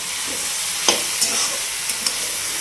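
Wild bitter gourd fries in a pan with a steady, close sizzle. A few quick scraping stir strokes cut through it at irregular moments.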